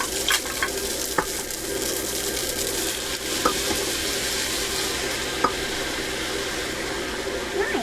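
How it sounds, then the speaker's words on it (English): Pasta water poured into a sizzling pan of tinned crab linguine, a continuous hissing fry with light clinks and stirring scrapes throughout. "now we're going to go in with some of the"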